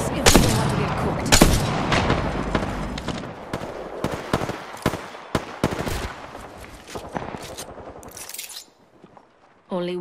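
Rapid bursts of video game gunfire crackle in close, loud volleys with short pauses between, some single shots mixed in, over faint background game sounds and a voice.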